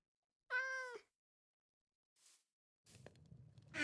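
A house cat meows once, a short clear tonal cry near the start, then a faint brief rustle and some soft scuffling noise toward the end, with long quiet gaps between.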